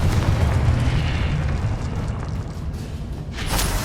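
A Confringo fire-spell explosion in Hogwarts Legacy produces a deep, sustained rumbling boom with crackling debris, easing off before another burst flares near the end, with no voices.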